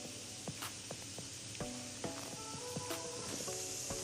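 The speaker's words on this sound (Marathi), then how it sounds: "आता आपण डाळ्या सुद्धा फ्राय करून घेणार आहोत." Roasted split chickpeas (dalya) fry in oil in a pan for Diwali poha chivda, giving a quiet, steady sizzle scattered with small pops and crackles, without speech.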